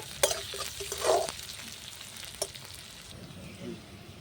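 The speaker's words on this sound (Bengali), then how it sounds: "লঙ্কা আর পেঁয়াজটা খুব একটু ভালো করে ভেজে নেব।" Onions and about seven or eight slit green chillies fry in a pan, a close, steady sizzle with a few sharp stirring clicks and scrapes in the first half, easing to a quieter hiss later.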